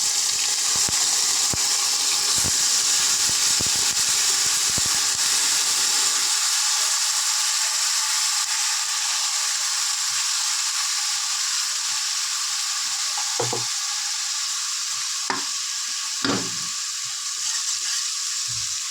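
Two blended onions, made into a paste, hit hot oil already fried with cinnamon, cloves and cardamom, setting off a strong, continuous hiss. Scattered knocks come early on, then the sizzle goes on alone as a steady bright fizz.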